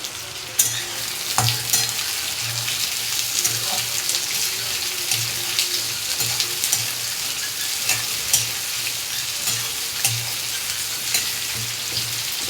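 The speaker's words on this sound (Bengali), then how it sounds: "পেঁয়াজটা ভাজা ভাজা হয়ে যায়" Onions frying hard over a high gas flame, a steady close sizzle with occasional stirring clinks and scrapes from the pan, running alone without any talk throughout.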